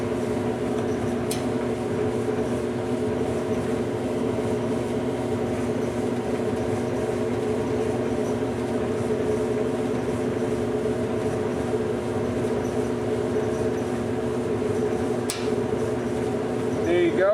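A gas clothes dryer runs with a steady mechanical hum and tonal drone throughout, close and even, broken by two brief clicks near the start and end.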